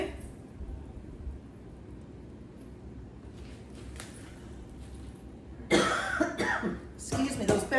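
Coughing fits set off by fumes from peppers cooking in a kitchen, several harsh close coughs bunched in the last two seconds after quiet background, with faint speech earlier.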